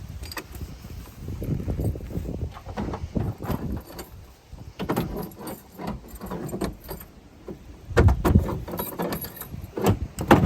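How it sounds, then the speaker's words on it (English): Old, peculiar house keys for a stone house in rural Sicily jangle and clink in repeated bursts of metallic rattling, loud and close, over several seconds. "the keys of the houses are really, really old and peculiar"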